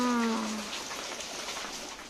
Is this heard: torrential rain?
yes